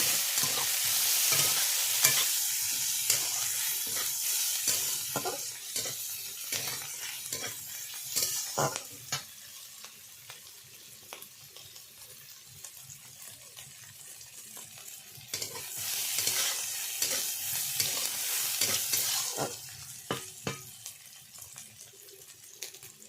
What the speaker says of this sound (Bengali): পেঁয়াজ কুচি দিয়ে ভালো করে ভেজে নেব।